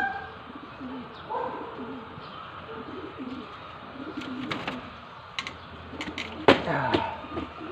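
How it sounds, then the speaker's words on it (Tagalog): Taiwan bird cooing and chirping in a caged setting, soft repeated calls with a few sharper chirps, moderately close over steady background hiss; a brief louder burst near the end. "Taiwan bird din siya guys"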